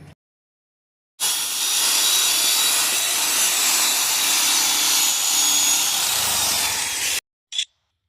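Machine polishing of a car headlight lens, a steady broadband abrasive whir running about six seconds at close range, starting and stopping abruptly, followed by a short faint scrape.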